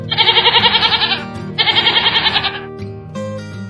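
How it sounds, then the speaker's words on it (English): A goat bleats twice in quick succession, each call a loud, wavering, trembling cry lasting about a second, close up and with no voices. "goat."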